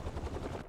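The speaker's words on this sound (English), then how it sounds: "A helicopter's blades." A brief, fast rhythmic thumping of helicopter rotor blades in the game Spider-Man 2, low and rumbling, heard alone for under a second.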